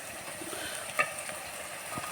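Egg masala curry bubbles in a pan after chili powder is stirred in, giving a soft, steady sizzle with a single light clink partway through.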